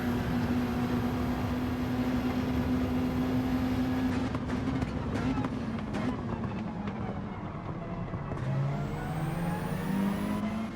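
Race cars on the last lap in Gran Turismo 7, a steady engine drone with shifting pitch as gears change, holding at a constant moderate level throughout.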